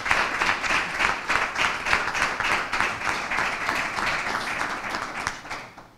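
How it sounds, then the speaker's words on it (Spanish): An audience at a bullfighting-season presentation in Nerva breaks into dense, steady applause that holds for several seconds before tapering off. "Un aplauso para todos ustedes,"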